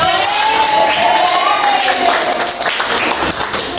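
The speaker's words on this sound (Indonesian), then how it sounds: "Tepuk tangan untuk" An audience claps at a university teacher-training presentation session, a steady wash of applause close by with voices mixed in beneath it.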